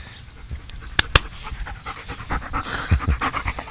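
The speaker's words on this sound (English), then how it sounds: "my dog tries to catch some swallows" A dog panting rapidly and audibly close by outdoors while chasing swallows, with two sharp clicks early on and the quick breathy rhythm building louder toward the end.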